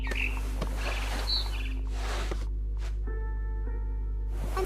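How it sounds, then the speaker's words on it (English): A barn swallow in a video game, What Remains of Edith Finch, gives bright, short chirps and tweets, a few scattered calls over a steady low hum, with some sustained tonal notes toward the end. "Then I heard chirping outside my window. It was a barn swallow going back to her nest."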